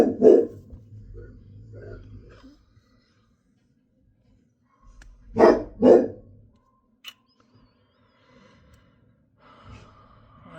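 A dog indoors in a home gives a few separate barks or yelps in short bursts, with breathy sounds and long quiet gaps between them.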